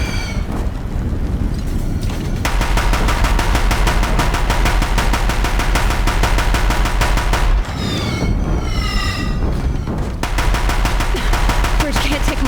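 Deathbringer war machines from Horizon Zero Dawn pound a bridge with sustained, loud rapid-fire bursts, a dense continuous barrage broken by a brief pause, with voices cutting through the gunfire.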